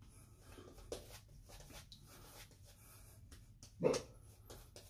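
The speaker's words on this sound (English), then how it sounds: "hey, don't bark." Quiet room background with soft rustling, then one short, sharp dog bark close by near the end.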